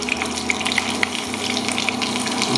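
Cordon bleu frying in a pan of browned butter gives a steady, loud sizzle and crackle with sharp spattering pops throughout, close up and with no voices.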